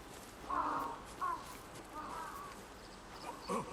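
In the video game Ghost of Tsushima, a crow caws several times, short harsh calls spread irregularly over a few seconds at moderate distance above a quiet ambient background.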